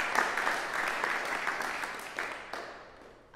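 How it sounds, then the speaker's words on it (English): Moderate audience applause at a string quartet concert, steady clapping for a few seconds that thins and fades out near the end. "So I'd just like to have a round of applause for Patty."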